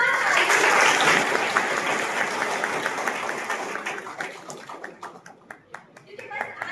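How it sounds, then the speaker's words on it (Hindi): Students at a law college event clap loudly together, the dense applause slowly thinning into scattered individual claps, with faint voices mixed in. "हमारे मुख्य अतिथि महोदय के लिए ताली बजाएं और जोरदार ताली बजाएं"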